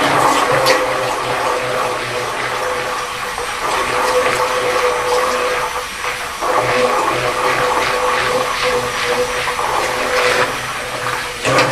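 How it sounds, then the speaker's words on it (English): Whirring electric hand mixer churning soaked paper pulp for paper clay, a loud continuous motor drone with sloshing wet texture and brief dips in load, no talking. "this little hand mixer, whatever you want to call it, does a fantastic job"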